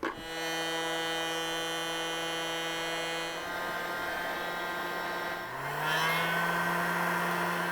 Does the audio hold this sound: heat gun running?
yes